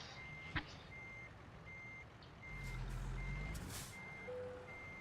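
Regular reversing beeps repeat at an even pace, faint and steady, over a low rumbling truck engine that grows louder midway, in the video game American Truck Simulator.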